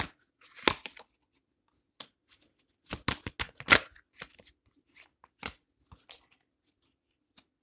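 Tarot cards shuffled and drawn at close range: crisp riffling, snapping and sliding card sounds in irregular bursts, with brief pauses between handfuls and no voice over them.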